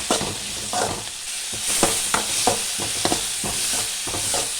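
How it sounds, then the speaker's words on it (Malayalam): Onions with a little salt stirred in a frying pan, a steady sizzle broken by repeated scraping strokes of a spoon, close and fairly loud with no talking. "ശകലം ഉപ്പുപൊടി കൂടെ ഇട്ട് കൊടുക്കും നന്നായിട്ടൊന്ന് ഇളക്കാം"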